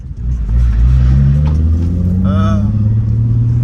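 A BMW E36 driving on a flat tire: a steady, loud engine drone with a rising rev and road rumble from inside the car, briefly overlaid by a whiny tonal squeal partway through.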